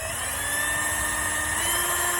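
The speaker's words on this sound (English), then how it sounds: "just get a drill bit and drill it into the back of the little PVC pipe that we have" A drill bores into the back of a small PVC pipe, a loud, steady, high whine held throughout at close range, with no talk over it.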